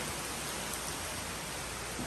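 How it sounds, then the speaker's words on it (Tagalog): Heavy rain pours steadily over fields in the countryside, a dense, even hiss with no letup, fairly distant and soft in level. "Grabing ulan."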